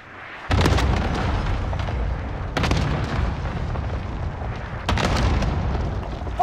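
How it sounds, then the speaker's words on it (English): Cluster strike explosions in a military shooter video game land as three heavy booms, each a few seconds apart, with long rumbling tails between the hits. "Cluster strike away."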